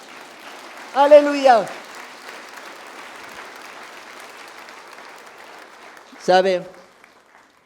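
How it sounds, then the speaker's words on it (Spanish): Church congregation clapping at a steady, moderate level through most of the moment, with a preacher's voice speaking briefly at the start and again near the end over the applause. "Aplauda fuerte al Señor."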